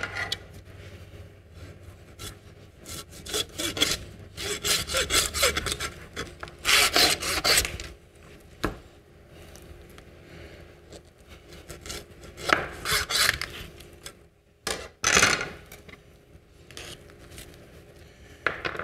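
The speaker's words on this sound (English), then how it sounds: "we're going to cut the blade off of the shoulder and have a shoulder roast and a blade roast" A butcher cuts the blade portion off a lamb shoulder with a knife, producing rough, rasping cutting and scraping strokes in irregular bursts, fairly close, with brief pauses between passes.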